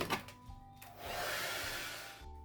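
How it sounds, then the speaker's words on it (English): Blow dryer switching on and blowing on hair, a near steady whooshing hiss after a few brief handling knocks, fading as it cuts off. "let's hit it with the blow dryer"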